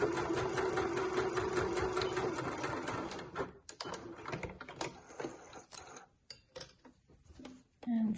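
A sewing machine stitches along the top edge of an apron, giving a fast, steady mechanical whirr for about three seconds, then a few short, stop-start bursts of stitching with quiet gaps between them.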